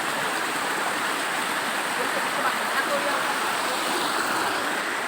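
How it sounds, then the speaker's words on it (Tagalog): Water flowing from a natural spring makes a steady, full rushing wash that stays close and even throughout, with no clear pauses. "May mga ayan bukal."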